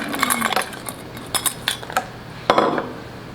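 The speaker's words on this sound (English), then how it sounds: "I'm going to add my frozen strawberries" Frozen strawberries being tipped into a pot of just-boiled strawberry sauce, producing a few sharp clinks and knocks of hard fruit against the pot, close and alone.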